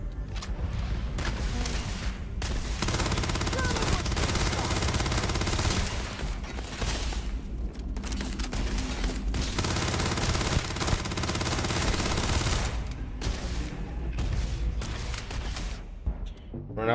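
Dense automatic gunfire in the sci-fi game Starfield plays in long sustained bursts with booming impacts, loud and continuous for most of the stretch, broken by a few short lulls.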